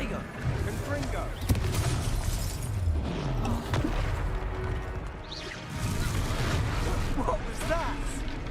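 A Confringo fire-blast spell cast in a Harry Potter video game erupts in loud booming explosions over continuous battle noise and game music, with voices talking throughout.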